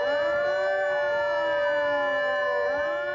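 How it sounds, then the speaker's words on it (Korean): Many fishing boats sound their sirens at once at sea, overlapping rising and falling tones forming a loud, continuous chorus with no talking. "이윽고 어선들은 작업바지선을 둘러싸고 일제히 사이렌을 울려댑니다."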